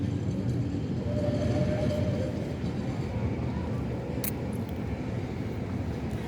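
A vintage electric tram in Lviv rolls steadily along its line under its own power, a continuous low rumble with wheel and track noise throughout, fairly close and with no voices over it.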